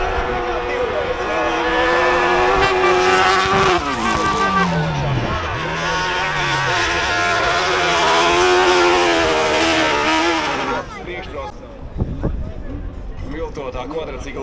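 Revving engines of hybrid-class race machines, including a modified quad bike whose motor cuts in and out, at a Latvian hill climb drag race; loud, sustained engine roar with rising and falling pitch sweeps under continuous commentary, fading near the end.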